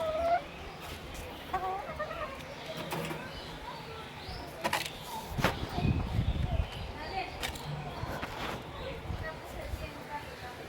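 Hens cluck softly while pecking at feed in a backyard coop, short scattered clucks over rustling, with a person talking intermittently nearby.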